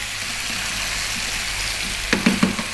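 Potatoes and beef fry in a pot with a constant hiss, then near the end a few louder scraping stirs cut through the sizzle; no talking.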